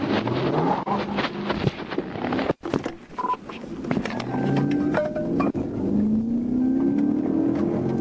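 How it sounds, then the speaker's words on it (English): A Nissan Altima speeding off during a police chase, heard from a pursuing car: engine roar and road noise with rising revving tones, a sharp thump midway, and electronic beeps or radio chirps. "Taylor suddenly sped off in the Altima"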